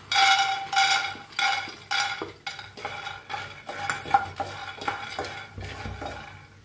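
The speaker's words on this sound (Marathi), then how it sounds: "आता आपण शेंगदाणे भाजून घेऊया" Peanuts dry roasting in a pan rattle and scrape in repeated rhythmic bursts as they are stirred, close and fairly loud, with metallic clinks between strokes.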